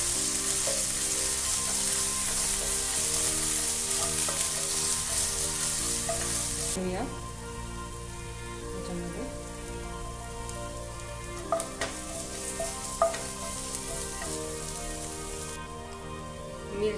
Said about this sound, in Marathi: हिरवी मिरचीची पेस्ट दही छान परतून घ्यायचं आहे